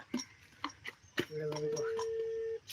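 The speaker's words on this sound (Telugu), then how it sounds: "ఎంగేజ్ ఇస్తుంది మళ్ళీ కట్ చేసి" A telephone line gives a steady electronic tone for about a second, following scattered clicks and handling noises. People talk around it.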